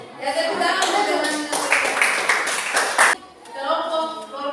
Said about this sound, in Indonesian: Yang tepuk tangan untuk teman